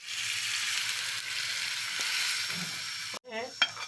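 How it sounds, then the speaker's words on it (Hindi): Vegetables fry in a small amount of oil, a steady close hiss and sizzle that cuts off abruptly near the end, followed by a brief different clink and rattle. "थोड़ा सा बिल्कुल ऑयल डाला है और हम इसको करेंगे फ्राई"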